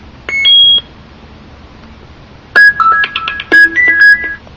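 Short electronic UI chimes: a two-note bleep, a pause, then a quick run of bright notification tones and beeps, clear and close.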